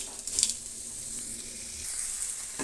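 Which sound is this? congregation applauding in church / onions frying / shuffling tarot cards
onions frying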